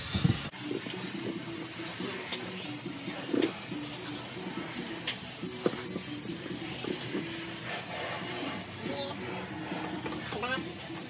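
Water runs steadily while an office chair is being cleaned at home, a continuous hiss and splash with tonal humming from a machine underneath and a few brief clunks.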